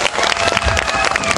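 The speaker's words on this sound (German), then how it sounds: "ein Riesenapplaus für das JA von Jamatami" Brief burst of dense audience applause with some cheering, loud and continuous throughout.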